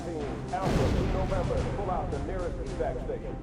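Rifle fire and booming blasts sound in the video game Halo: Combat Evolved played in VR, heaviest early on and then rumbling under someone talking throughout.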